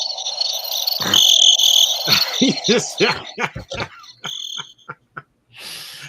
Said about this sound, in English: The loudest crickets I think I've ever.